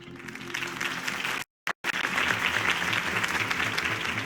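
Dense crowd applause and cheering in Batman: The Telltale Series fill the clip, briefly cut to silence midway before resuming just as loud.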